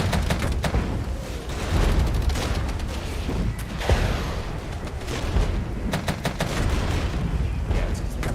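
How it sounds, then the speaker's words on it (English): Repeated gunfire and booming mortar and artillery shots in the war game Regiments, dense and continuous with sharp transient bursts throughout, no speech. "Alright, so my mortars are doing their jobs."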